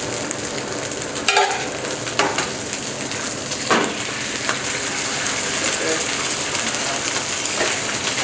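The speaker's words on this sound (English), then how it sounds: "cook the egg in the center like that" Egg frying in oil in the center of a pan of fried rice, a steady close sizzle throughout with a few brief stirring scrapes.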